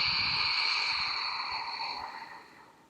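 A slow yogic Ujjayi exhale through a constricted throat, breathy and ocean-like, heard close and alone, a steady airy hiss that gradually fades out over about three seconds.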